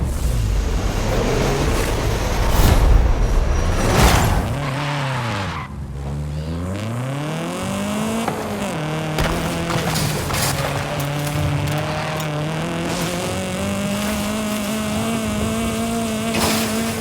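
A car in the racing game Forza Horizon 5 drives through The Eliminator mode near the pyramids, its engine revving and shifting loudly while tires squeal and skid through turns, with a steady rising engine drone toward the end.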